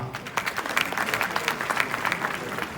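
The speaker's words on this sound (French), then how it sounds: "je vous prie de l'applaudir, Daraba." Moderate applause from an audience at an awards ceremony, a steady patter of clapping hands lasting a few seconds, somewhat distant.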